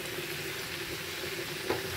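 Bitter gourd frying in a pan with hilsa fish pieces, onion and chili, a steady close sizzle that runs evenly and alone, with no talk.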